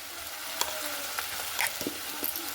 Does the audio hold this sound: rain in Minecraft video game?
no